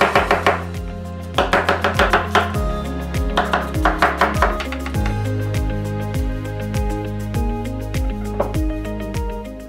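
A knife chops onion on a cutting board for a vegetarian onion soup, with quick bursts of crisp, rhythmic taps separated by short pauses, close and clear with no talking.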